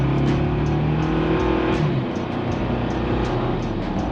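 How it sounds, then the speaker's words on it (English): A 2024 Toyota Tacoma truck accelerating up a hill, its engine droning steadily and loudly from inside the cab with a low rising tone, no voices. "I test drove a few Tacomas and I had a ton of fun."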